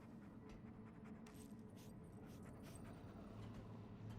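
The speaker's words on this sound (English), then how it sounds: "You can pet the dog." In Remnant 2, the Handler's dog companion whimpers and pants softly beneath a dense, steady game soundscape, with faint airy breaths and small yips scattered through it.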